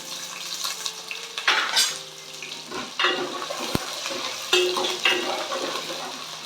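Whole small shallots frying and being stirred in a pan for a spicy fish curry, with bursts of sizzling, clattering pan contact and faint water or tap sounds nearby, no talking.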